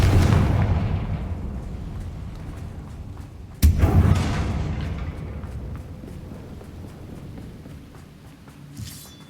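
A Confringo blasting spell explodes in the Hogwarts Legacy video game, a booming blast rolling into a long decaying rumble, then a second sharp explosion near the middle that fades slowly.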